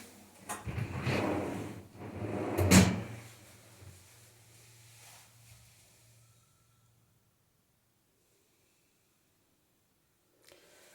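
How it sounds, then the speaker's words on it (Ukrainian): Drawers of various sizes in an apartment's walk-in wardrobe slide open and shut, a few close scraping and knocking movements over the first few seconds, then near silence with one faint knock at the end. "Шухлядки різних розмірів."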